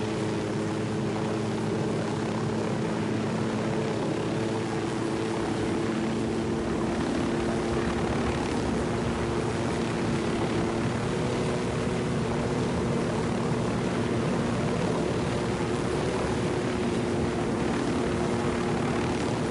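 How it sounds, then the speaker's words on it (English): Airplane engine in Tom Clancy's Ghost Recon, a loud, continuous propeller drone with a steady hum that holds unchanged throughout, no talk. "There's still a plane."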